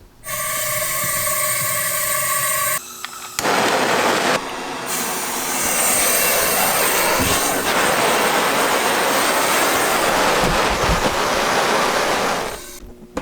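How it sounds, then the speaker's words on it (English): A gas forge burner: a loud, steady roaring rush of flame builds and holds for several seconds after a brief hiss, then cuts off abruptly. "when I turn this, you'll be able to hear the gas"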